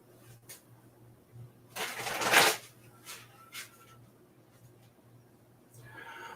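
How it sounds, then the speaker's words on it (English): A deck of playing cards shuffled up close, one quick riffle burst in the middle of an otherwise quiet stretch with a low steady hum underneath and a few small soft knocks. "Let me get a good shuffle here."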